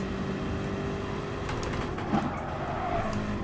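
Engine of a Nissan GT racing car in the video game Gran Turismo Sport at Bathurst, droning and revving at moderate distance, with a brief higher whine as it shifts; no voices.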